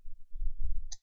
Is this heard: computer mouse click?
yes